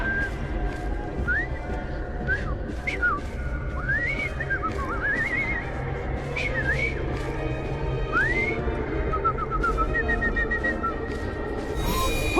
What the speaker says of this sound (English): I've just learned to whistle.